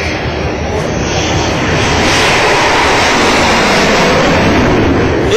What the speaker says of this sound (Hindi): इसी एक्सप्रेसवे पर उन्नाव के बांगरमऊ इलाके में विमानों ने टच डाउन किया।